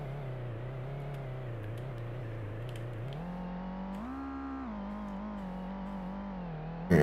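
A synthetic car engine in a homemade Godot driving game drones steadily, its pitch stepping up and down as the revs change and gears shift, continuous and fairly quiet with no voices.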